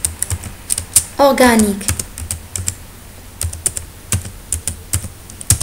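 Rapid, close clicks of typing on a computer keyboard in irregular bursts, with a brief spoken word in French partway through.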